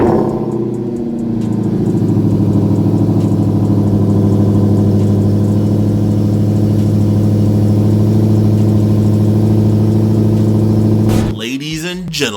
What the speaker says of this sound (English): We taking the Redeye. Cold start.